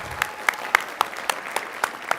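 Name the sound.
audience applause for a student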